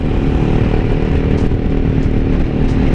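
Yamaha XMAX 250 scooter fitted with a short aftermarket exhaust, idling steadily with a throaty low rumble, close and continuous without any voices.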